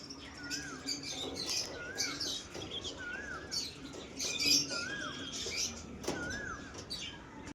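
Birds calling at a pigeon seller's place, with repeated short chirps and tweets recurring roughly every second over a busy, noisy background.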